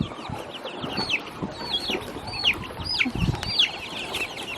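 Soft clucking from chickens mingles with brief chirps and light rustling, close by and fairly quiet, with no talking.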